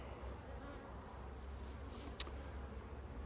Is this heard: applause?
no